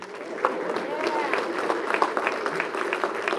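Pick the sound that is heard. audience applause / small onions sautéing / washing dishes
audience applause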